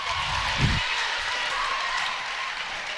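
Loudonville fans cheer in a gym during a girls high school basketball game against Crestview, a steady broad crowd roar with a brief low thump early on.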